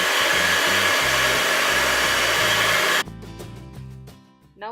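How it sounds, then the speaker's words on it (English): A loud, steady motorized whir of a whisk beating sugar into banana cake batter runs for about three seconds, then cuts off abruptly, leaving background music. "Whisking it very well."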